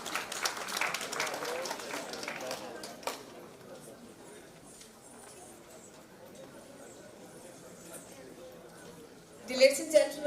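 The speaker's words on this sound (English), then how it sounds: "put your hands together and let us have our artist welcome with a huge round of" A burst of applause at a conference inaugural session opens, then fades into a quiet stretch with faint background voices, ending with a couple of sharp sounds.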